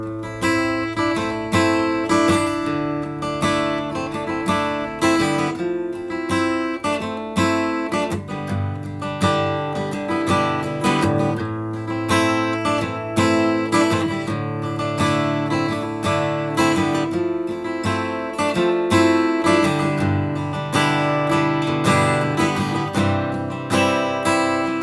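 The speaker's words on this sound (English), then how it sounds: "it's going to sound like this" Acoustic guitar plays a song, a picked riff woven over strummed chords, steady and close for the full stretch with no voice.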